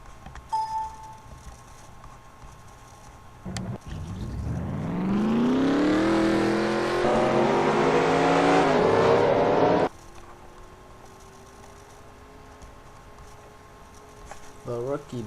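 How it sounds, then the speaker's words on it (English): Race car engines at the Daytona round of a Verizon Cup Series race start up and rev, building into a loud sustained roar for several seconds before cutting off abruptly. "Drivers, start your engines!"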